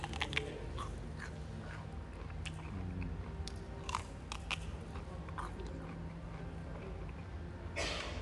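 Crunchy raw celery being bitten and chewed close to the microphone, a run of crisp, wet snaps and crunches repeating steadily over several seconds, with no speech.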